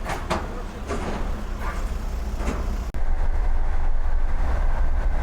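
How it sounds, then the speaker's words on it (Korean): Rail car-carrier shuttle train for an Alpine tunnel in Switzerland as vehicles drive aboard, a loud steady rumble with several knocking thumps and a sharp clunk midway, after which a constant heavy drone continues. "이제 차량들도 기차에 탑승하고 있습니다."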